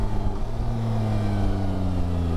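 A Yamaha Tracer 9 GT+ sport-touring motorcycle engine hums steadily at close range as it shifts smoothly through a gear, the tone dipping slightly and settling back into an even drone.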